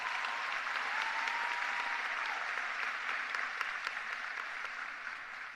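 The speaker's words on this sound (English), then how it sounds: "Give them another round of applause, please." Steady applause from a high school graduation audience for the Dwyer Chorus, an even wash of many hands clapping that holds throughout and tapers slightly near the end.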